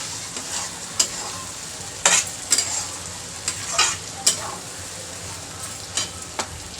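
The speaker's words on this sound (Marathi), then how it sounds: "तर आपण आता 5 मिनिटं चांगली भाजी परतून घेतलेली आहे." Pea and potato curry being stirred and fried in a pan, with repeated scraping strokes of a spoon over a steady close sizzle, no voices.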